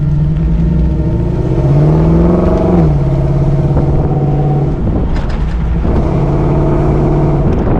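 A 1954 Chevrolet Corvette C1 restomod accelerates hard on the road, its engine revving up loudly, easing off, then pulling again in a steady rising drone heard from inside the car, with no talking.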